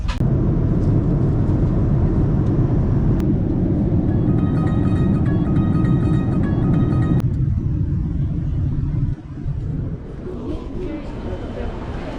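Steady, loud airplane cabin drone on a flight to Thailand, a constant low rumble of engines and air that persists throughout, with a faint tonal chime in the middle and a slight drop near the end.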